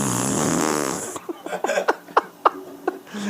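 A man imitates a fart with his mouth, a long buzzing raspberry followed by several short sputtering bursts, up close and loud with no other sound.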